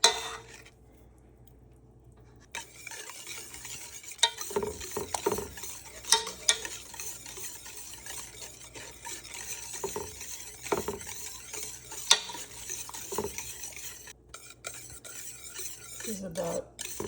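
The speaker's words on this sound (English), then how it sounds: "Now I just keep stirring until it reaches that low roll boil." A spoon stirs melted butter fudge mixture in a pot on medium heat, giving a faint, irregular scraping and clinking against the metal with a soft low bubbling underneath, and a few quiet words from a woman.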